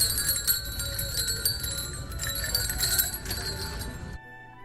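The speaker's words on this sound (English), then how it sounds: "The little bells are amazing." Small bells on a Christmas garland jingle and tinkle continuously at close range in a home-decor store, a bright, shimmering cascade that stops abruptly near the end.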